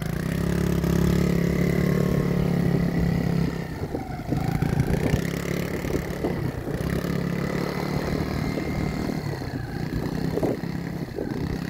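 A Yamaha YFZ50 youth quad engine drones through a solo ride, loud and continuous, with a dip around the middle and then a wavering, uneven tone as the throttle varies.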